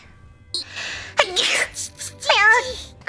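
A sneeze from a VTuber's live stream: a short sharp burst preceded by a gasping inhale, followed by a high, wavering vocal sound.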